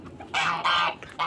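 Red hens and a black rooster clucking inside a farmyard coop, in three loud, close bursts of agitated squawking separated by brief pauses.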